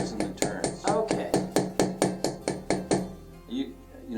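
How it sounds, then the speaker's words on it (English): About a dozen sharp, evenly spaced metallic taps from a small hammer striking an ear wire on a hard block, followed by a brief pause and a voice. "it's a good idea to hammer on both sides"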